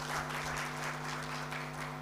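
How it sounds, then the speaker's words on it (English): Audience applause for a keynote speaker at a national stakeholders' dialogue, a steady wash of many hands clapping over a constant low electrical hum, fairly close and even throughout. "Another round of applause for our keynote speaker."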